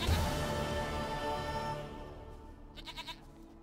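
Drawn-out goat bleat from The Witcher 3, a loud wavering cry that fades, followed by a short quieter burst of stuttering bleats near the end.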